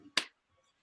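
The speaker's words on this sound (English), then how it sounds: "We're just gonna randomly have JC clap her hands." A single sharp hand clap rings out close and crisp, then quickly fades into silence.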